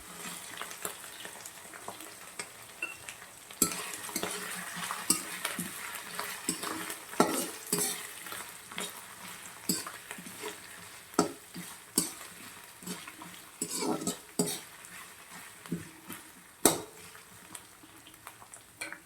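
Cauliflower pulao frying and being stirred in a pan, with steady sizzling under repeated sharp scrapes and clinks of a spoon against the metal, close and fairly loud.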